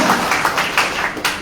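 Congregation clapping for God in an Indonesian church service, a brief run of distinct, fairly rhythmic claps with the crowd's applause thinning out.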